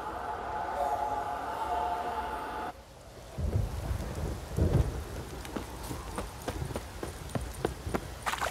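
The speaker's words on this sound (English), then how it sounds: "This downpour's a bastard, it is." Heavy rain and rolling thunder in The Witcher 3: Wild Hunt, with a steady downpour hiss, a deep rumble, and horse hooves clopping through the storm.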